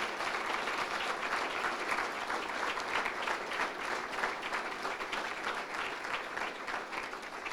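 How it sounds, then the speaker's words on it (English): An audience at a college giving gala applauds steadily in a large room, a dense and continuous wash of clapping from many hands that holds at an even level throughout. "Please give them a round of applause."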